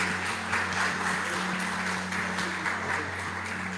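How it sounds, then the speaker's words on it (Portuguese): Church congregation applauding during a bilingual sermon, dense continuous clapping from a large crowd at a steady level, with a low electrical hum beneath it. "Você pode aplaudir Ele agora, em nome de Jesus."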